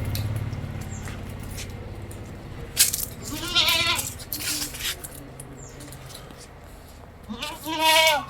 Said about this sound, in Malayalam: 2 ആടുകൾ വളർത്താനും ഇറച്ചിക്കൊക്കെ പറ്റും.